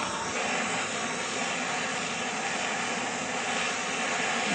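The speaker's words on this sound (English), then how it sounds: "Here we're using a regular acetylene torch that I use" Acetylene torch flame heating a copper pipe fitting for soldering, a loud, steady broadband roaring hiss held close and unbroken throughout, with no talk.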